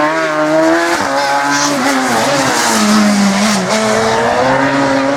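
A race car at a slalom event in the Pays d'Ancenis revs hard through a turn, its engine note rising and falling as the tires squeal loudly and close by.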